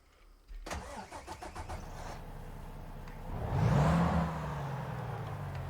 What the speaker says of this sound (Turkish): Şöyle tırımızı çalıştıralım.